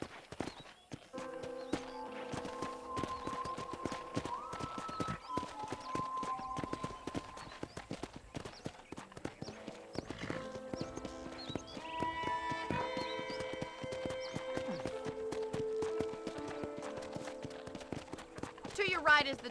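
Horse hooves clip-clopping at a riding pace in the video game Red Dead Redemption, a steady rhythmic stream of close hoofbeats under game music and intermittent spoken dialogue.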